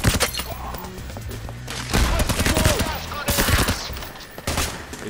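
Dense automatic machine-gun fire erupts in the heist shooter game Payday: The Heist, with sustained rattling bursts and shattering impacts layered loudly over a chaotic firefight.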